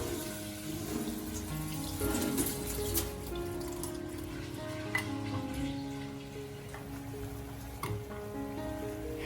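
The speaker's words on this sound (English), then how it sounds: "Add it to a strainer to wash it easily." Sago seeds are rinsed in a strainer under running tap water, a soft, steady trickle and splash with faint ticks of grains against metal in a quiet kitchen.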